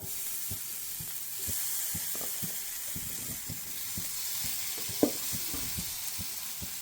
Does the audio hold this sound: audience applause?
no